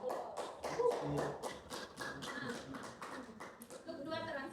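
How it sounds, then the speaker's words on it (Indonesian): A classroom of students applauds together, with a steady run of brisk, fairly loud hand claps that fades slightly toward the end, while a voice speaks faintly underneath. "Berikan aplaus."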